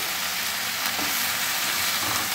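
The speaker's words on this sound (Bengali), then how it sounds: "এটাকে আমি সুন্দর করে একটু ভাজা ভাজা করব" Leaves fry in a pan with a dense, continuous sizzle and crackle, loud and close, with the rustle of stirring running through it.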